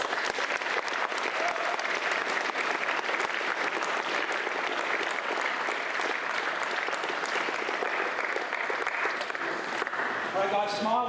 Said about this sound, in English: So give everyone a very big round of applause.